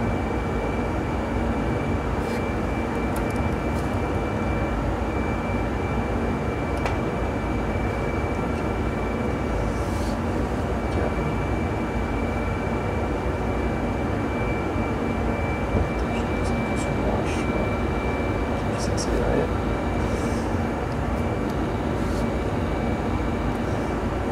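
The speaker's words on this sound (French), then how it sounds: "On va accélérer l'avion." Steady, loud jet engine roar of an A320 airliner in a flight simulator, holding a dense continuous rumble as the aircraft accelerates, with faint clicks over it and no speech.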